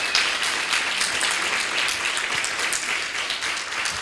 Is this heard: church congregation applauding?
yes